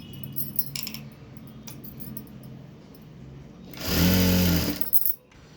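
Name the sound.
sewing machine stitching blouse cloth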